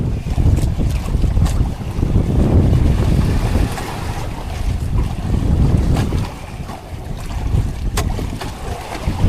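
Strong wind and rushing sea current heard from a small fishing boat on rough water, a steady loud roar with wind buffeting the microphone and surging wave wash throughout, no talking.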